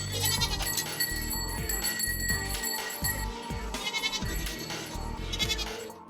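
Several Saanen goats bleat close by in a rapid, overlapping series of loud, wavering cries that continue throughout.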